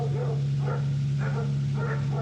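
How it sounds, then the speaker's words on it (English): Several dogs bark and yip in bursts across a neighborhood, moderately distant, over a steady low engine hum from an old abandoned Mercedes G-Wagon G63 AMG idling nearby. "every dog in the neighborhood is losing it over that sound"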